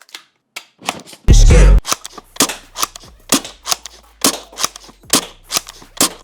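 A Worker Seagull foam blaster fires with a loud close burst, then a rapid series of sharp mechanical clicks and clacks repeating at a steady rhythm.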